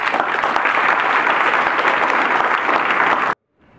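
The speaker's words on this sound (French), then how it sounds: "Ceci mérite des applaudissements." An audience at a carnival meeting in Ploërmel applauds loudly and densely, a sustained wash of claps that stops abruptly near the end.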